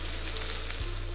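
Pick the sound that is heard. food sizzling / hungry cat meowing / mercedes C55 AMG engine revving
food sizzling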